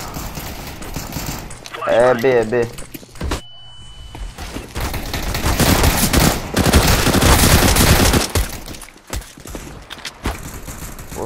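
Rapid automatic gunfire in the video game CS:GO, played casually, sounds in dense bursts through most of the clip, loud and close, with brief player speech near the start.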